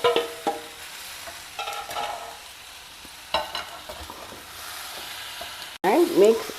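Lemon rice with fresh lemon juice and salt is stirred in a pan, giving scattered scraping and clattering strokes with a louder, busier stretch of mixing near the end, close up and with no talk.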